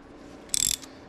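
A ratchet loosening a bolt on a Harley-Davidson Sportster during stator and regulator work makes one quick burst of close metallic clicks, then a single faint click after it.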